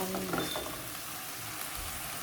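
Pork with salt and fresh chili stir-fries in a pan with a steady, loud sizzle throughout, plus a few faint scraping stirs near the start.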